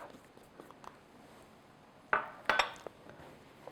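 Quiet kitchen clinks and scrapes of a utensil against a bowl while peanut butter filling for crispy peanut butter balls is mixed, with two sharper clatters near the end amid low background hush.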